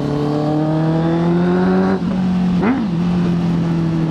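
A loud, steady Honda CB650F motorcycle engine rumble with a 4-into-1 full exhaust, strong harmonic tones, briefly dipping and blipping as the throttle is revved, running continuously throughout.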